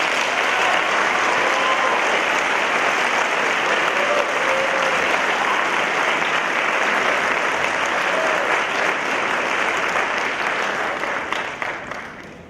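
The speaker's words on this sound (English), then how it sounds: "I ask that you honor them with a round of applause." Sustained, loud applause from a high school graduation audience honoring faculty, a thick continuous wash of clapping that thins and fades near the end.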